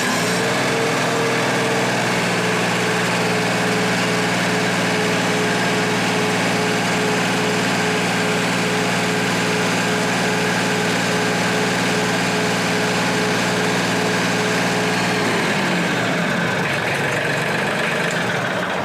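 A Mahindra 1626 HST 4WD compact tractor's engine runs steady at PTO RPM, a loud continuous drone with a constant whine that drops in pitch near the end.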